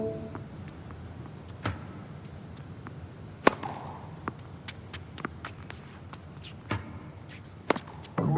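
Tennis balls are struck in the TopSpin 2K25 video game during baseline-and-volley practice, sharp isolated racquet pops spaced irregularly over a soft crowd-like background hum.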